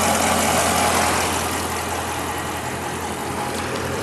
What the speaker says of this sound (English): you just can't beat that classic muscle car sound that this engine has